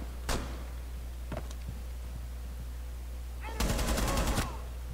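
Gunfire in Rainbow Six Siege: a single sharp shot, a fainter second one, then a quick automatic burst of about a dozen rounds near the end over a steady low hum.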